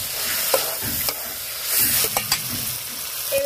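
Mutton liver stirs and fries in a pan for a ghugni made with mutton fat, with a loud, steady sizzle and intermittent spatula scrapes close by.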